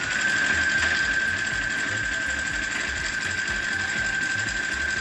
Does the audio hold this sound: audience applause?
no